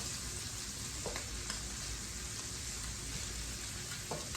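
Shallots and garlic fry in a pan with a steady, dense sizzle, close and continuous, with a few faint stirring clicks throughout.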